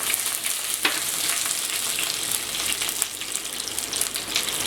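Curry leaves fry in hot oil after the mustard seeds have popped, making a dense, continuous crackling sizzle with sharp pops, close and loud throughout, while a Kerala beef pickle is being made.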